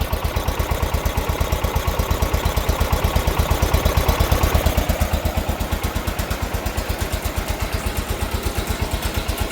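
A 1980 John Deere 216 lawn tractor engine runs steadily, a close, loud, evenly pulsing putter with some mechanical clatter, with no voices over it.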